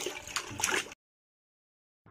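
Tender leafy greens are washed in water, giving close splashing and sloshing that lasts about a second, then stops cold and resumes briefly at the end.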